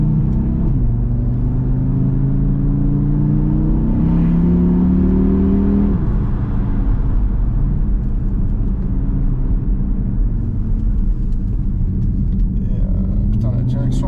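Audi RS3 of nearly 500 hp driving in fully automatic gear mode, a loud continuous engine drone with rising and falling pitch as it shifts, close inside the cabin.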